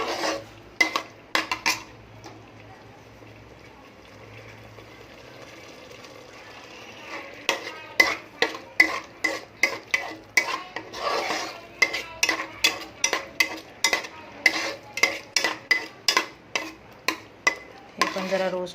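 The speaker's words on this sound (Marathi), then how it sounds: "हे प्रॉपर वॉश केलेले कलेजे आहेत हे मिक्स करते. हे जरा फ्राय करून घेते." Chicken liver is stirred in a hot pan over a medium flame, a quiet sizzle at first, then a long run of rapid, rhythmic metallic scrapes and clanks from the spoon against the pan.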